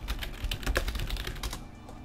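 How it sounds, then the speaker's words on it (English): Rapid typing on a computer keyboard, close and fairly loud, a quick irregular patter of key clicks that stops near the end. "Sorry, just typing to somebody."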